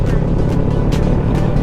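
A Kawasaki Versys 650 motorcycle ridden through town: a steady engine drone mixed with rushing wind noise throughout, continuous and fairly loud.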